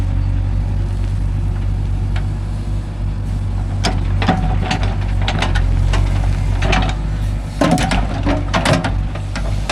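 A JCB 3DX backhoe folds its boom while loading soil into tractor trailers, a steady low diesel engine rumble with repeated clanking and ratcheting mechanical knocks rising in the second half.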